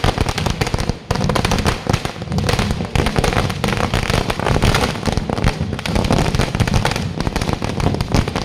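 Firecrackers set off by fans in celebration outside a city municipal office during a procession, a dense, continuous barrage of loud crackling bursts that rattles on without pause throughout.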